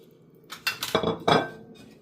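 A spoon scrapes and clinks against a pan while fried salmon pieces are stirred into pickle masala with the flame off, several close metallic scraping strokes with small clinks, loud in the middle and fading toward the end, no talk.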